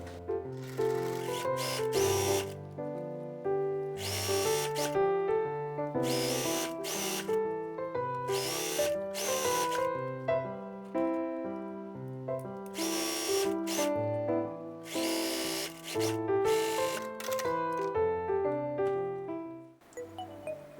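A sewing machine runs steady bursts of stitching along the end of a shoulder strap sewn right sides together, its rapid mechanical hum close and constant, with short stops and restarts and no voices.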